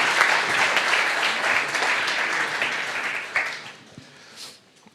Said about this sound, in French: Let's give these a round of applause for being our volunteers.